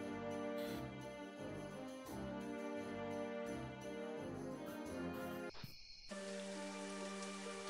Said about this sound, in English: it's raining in the desert